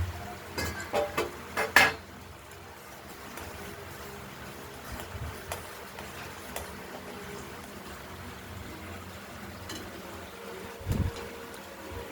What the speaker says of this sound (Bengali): ফুটতে থাকুক চিংড়ি মাছ সহ নারকেলের দুধটা।